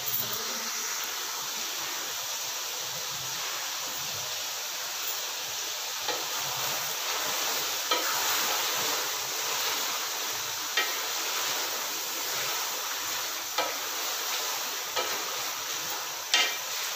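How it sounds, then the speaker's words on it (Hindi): Chicken curry with tomatoes sizzling and frying in a pan while being stirred, a steady loud hiss throughout with occasional scraping clicks of the spoon, no talking. "टमाटर शामिल करने के बाद थोड़ी देर आपने पकाना है ताकि टमाटर गल जाएं।"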